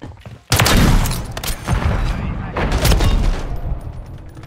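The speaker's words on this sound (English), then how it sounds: "What the fuck is this grenade launcher" Grenade launcher blasts and gunfire from Call of Duty: Modern Warfare III, loud and close, with a heavy burst followed by sustained rattling fire and repeated booming hits.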